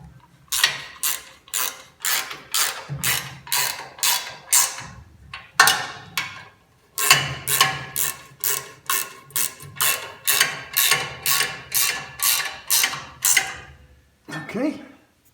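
A ratcheting wrench is worked on a 1953 pickup during a transmission cooler install, giving rapid bursts of sharp metallic clicks in repeated strokes, close and crisp, with brief pauses and a short voice near the end.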